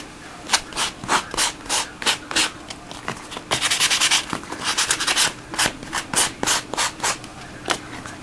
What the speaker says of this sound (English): now I'm just going to grab the sander. I'm just going to sand that a little bit.